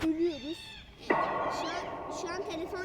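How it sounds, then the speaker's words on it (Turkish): Fighting cats meow and yowl indoors, with strained, wavering cries and one sharp rising yowl partway through, continuing loudly to the end. "ben şu kedileri ayırıp geliyorum"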